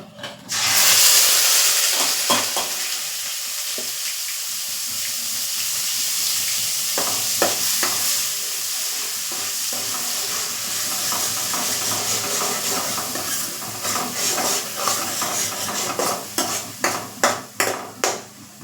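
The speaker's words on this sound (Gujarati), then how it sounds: "તો ડુંગળીની પેસ્ટ છે તેને આપણે તેલમાં સાતળી લેશું જ્યાં સુધી તેલ છૂટું ન પડે" Onion paste sautéing in oil with asafoetida for Vadodara-style sev usal: a steady close sizzle with spoon scrapes and clacks against the pan, growing into quicker sharp stirring knocks toward the end, no talk.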